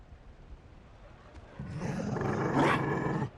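A Mabari war dog in Dragon Age: Inquisition lets out a low, rough growl that swells into a loud roar-like snarl for about two seconds before cutting off, close and alone with no talk.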